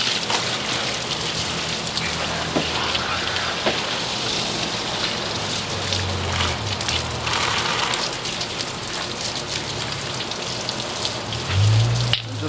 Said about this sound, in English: you want to rinse it from every angle so you don't miss anything